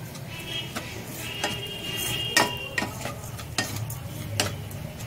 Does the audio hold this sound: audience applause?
no